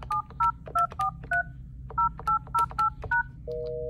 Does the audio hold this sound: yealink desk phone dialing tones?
yes